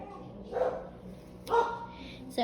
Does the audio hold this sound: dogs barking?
yes